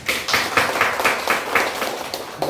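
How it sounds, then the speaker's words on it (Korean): Congregation clapping at a church Sunday service to welcome back a member just discharged from hospital, a short burst of steady, fairly close hand claps lasting a couple of seconds. "박수 부탁합니다."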